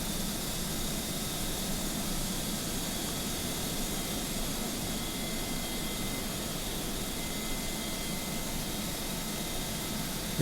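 Airbus A300-600R jet engines in Microsoft Flight Simulator, a loud, steady broadband roar with a faint high whine, continuous and unchanging throughout with no talk.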